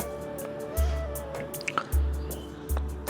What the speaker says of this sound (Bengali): হাত ধুয়ে ফেললাম